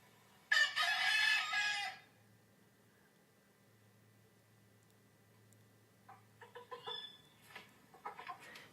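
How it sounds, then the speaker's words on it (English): A rooster crows once, loud and close, then falls quiet. A few soft clucks and scattered faint bird sounds follow. "How does a rooster wake a man up by crowing?"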